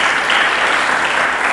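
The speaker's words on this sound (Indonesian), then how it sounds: "Berikan tepuk tangan bagi Yesus Kristus." A church congregation applauds loudly and steadily, a dense wash of clapping from many hands with no voices on top.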